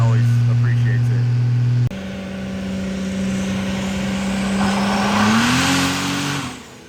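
A modified truck engine howls on a chassis dyno, a loud sustained drone that cuts briefly, then resumes and climbs in pitch toward the end as the revs rise.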